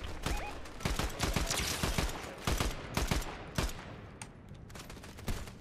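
Rapid bursts of gunfire from a Fortnite match, sharp close shots cracking in irregular clusters over busy in-game background noise, with sporadic single reports between volleys.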